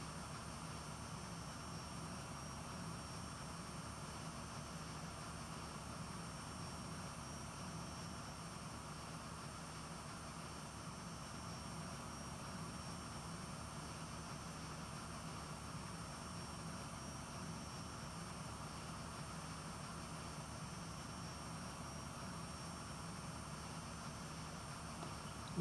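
Aermacchi MB-339 jet trainer cruising in Microsoft Flight Simulator, a steady unbroken engine roar with a faint high whine on top, holding level and constant throughout.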